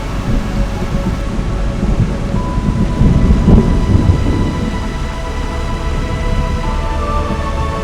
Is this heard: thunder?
yes